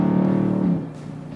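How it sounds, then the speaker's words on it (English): A Dodge Charger 392 V8 with an aftermarket exhaust gives a deep, throbbing idle rumble, loud and close, that eases off after about a second. "Another thing to love this car is the fact that with the exhaust, even stock, this thing sounds loud."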